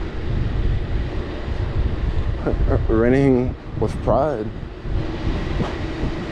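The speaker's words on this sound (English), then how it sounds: "That sound is always on that you hear because it's the cables moving." San Francisco cable car cables run beneath the street with a constant low rumbling whir, heard continuously outdoors while a person speaks over it on the walk toward Fisherman's Wharf.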